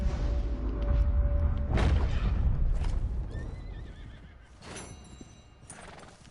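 A horse in Red Dead Redemption 2 lets out a loud whinny over clopping hooves and low rumbles, the neigh rising and trailing off, followed by further hoof thuds and whooshing game effects.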